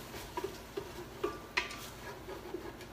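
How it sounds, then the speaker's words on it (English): Minced garlic sautés in a pan with a faint sizzle under several light scraping clinks as it is stirred, close by and without talking. "And I'm going to saute that"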